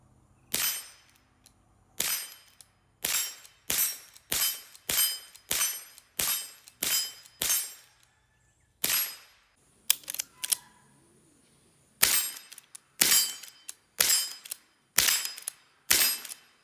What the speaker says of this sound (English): I can lever it and shoot it.